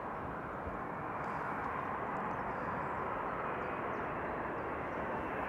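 A KLM airliner arriving at Amsterdam Schiphol Airport gives a steady, broad jet roar that holds at an even loudness throughout, with no voices.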